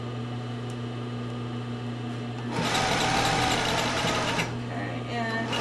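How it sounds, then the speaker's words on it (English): Close by, a sewing machine stitches a sports bra seam over an overlocked edge, a loud rapid mechanical run starting midway over a low steady hum, with a brief pause and restart. "I'm doing this kind of right on top of my overlock, like right at the edge"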